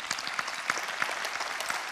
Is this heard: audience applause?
yes